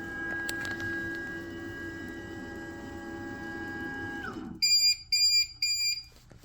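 A Makera Carvera Air desktop CNC machine hums and whines steadily until its motor winds down. It then sounds three loud, bright electronic beep patterns in a row, prompting a tool change.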